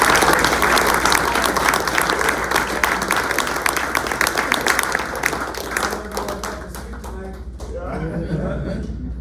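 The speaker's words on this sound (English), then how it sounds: "Everybody applaud" Sustained applause from a crowd at a karate belt promotion, dense clapping with some cheering and laughter mixed in, gradually thinning toward the end.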